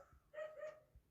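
A one-and-a-half-year-old toddler imitates a dog's bark, giving a single short, faint voiced 'woof' with no other sound around it.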